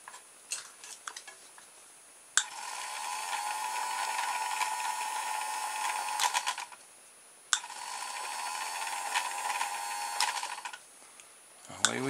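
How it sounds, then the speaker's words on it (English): A part being screwed back into an electric toy car built from a doorbell, heard as two long, steady mechanical whirring runs with clicks between them, close and fairly quiet. "all I need to do is screw that back in place."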